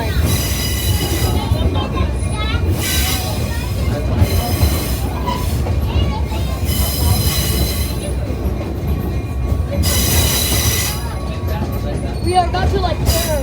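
The Blue Ridge Scenic Railroad passenger train riding on rails, a continuous loud rumble with recurring bursts of high wheel squeal, heard from on board.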